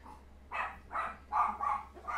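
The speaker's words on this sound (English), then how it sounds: "don't make my dogs bark." Dogs barking indoors, a run of four or five muffled barks at a steady pace, faint and somewhat distant over a low hum.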